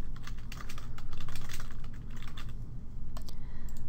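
Steady, rapid typing on a computer keyboard as a search is entered, dense close key clicks running throughout over a low background hum, with no talking.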